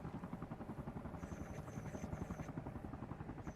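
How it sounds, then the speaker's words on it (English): Helicopter in the video game ARMA Reforger, a steady rapid rotor thump with a whining engine tone, moderately close and continuous throughout with no talk. "Helicopter near docks."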